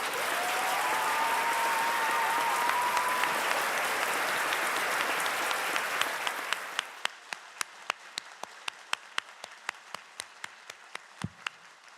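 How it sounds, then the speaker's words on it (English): Graduates and guests at a university business faculty graduation ceremony give a big round of applause, dense at first, then thinning after about seven seconds into scattered single claps that fade out. "a big round of applause."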